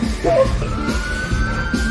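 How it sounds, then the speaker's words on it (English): An ambulance siren wails with a thin, sustained tone that slowly rises in pitch, moderately loud amid scattered background noise and brief voices. "Those sirens belong to the elite nursing squad"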